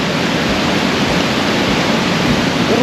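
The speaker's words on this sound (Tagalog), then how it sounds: "ang agos ng tubig dito" River water at Lynn Canyon rushes in a loud, constant broadband roar with no breaks, close by and filling the whole scene without any voices.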